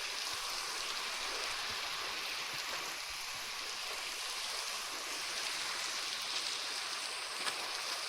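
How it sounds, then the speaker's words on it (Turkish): Steady, hissing Minecraft rain pours continuously, a dense even wash of drops with no voices, quiet and unchanging throughout. "Bakın her şey yağmur yağmur. Yağmur, bakın yağmur varken kasıyor."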